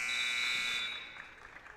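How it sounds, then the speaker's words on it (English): A basketball end-of-quarter buzzer sounds in a girls' varsity high school gym: one loud, steady electronic tone for just under a second, then fading into faint crowd noise. "Otting beats the buzzer for 3."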